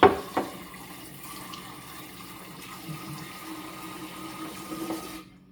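Running tap water rinsing kefir grains in a kitchen sink, a soft continuous splashing flow with a couple of knocks at the start, fairly faint and cutting off at the end.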